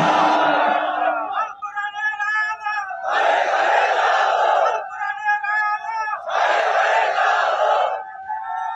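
A large crowd at a religious sermon roars the takbir response in unison, two long swelling shouts with a voice leading between them, loud and reverberant in a big open gathering.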